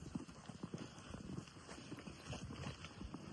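Hooves of a heavy draft mare, six months in foal, clip-clop in a steady uneven patter at close range through a snowy winter scene, with faint voices in the background.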